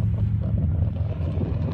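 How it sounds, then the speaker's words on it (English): Wind gusting outdoors on a cold 45-degree day buffets the microphone near a small fire with a low, rumbling, continuous whoosh. "it's windy"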